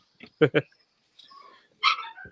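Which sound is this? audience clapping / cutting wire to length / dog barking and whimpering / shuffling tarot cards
dog barking and whimpering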